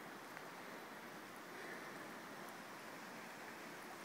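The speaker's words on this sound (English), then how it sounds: "It's raining and I didn't wear a raincoat." Steady rain falling beside the high Kilchis River in March, a faint, even hiss of drops and rushing water with no breaks and no talk.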